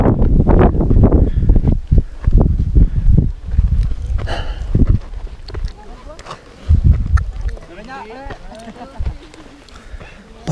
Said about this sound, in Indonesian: Banyak angin.